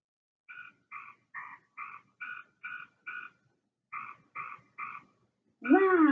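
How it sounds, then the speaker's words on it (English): Cartoon frogs in a children's storybook video game croak a melody: about ten evenly spaced two-tone calls with short pauses, loud and clear with no talk, followed by a brief swooping sound at the end. "listen to those frogs. They're croaking in a melody."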